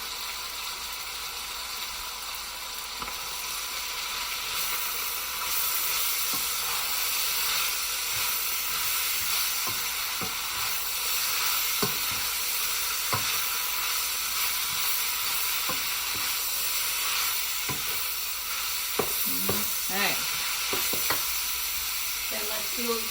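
Cabbage, bok choy and onion sizzle and hiss steadily in a hot pan for chow mein, a continuous close frying sound with occasional stirring clicks and scrapes.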